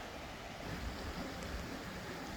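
A mountain valley stream in dense forest at Naeyeonsan near Bogyeongsa flows steadily, a continuous broadband rush of water with no talking.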